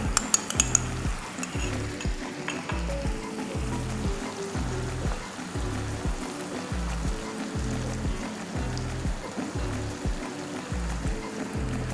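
Tomato paste sizzles steadily in a hot pan while cooking for spicy East African masala cassava, a continuous close frying hiss over a low, rhythmic pulsing background.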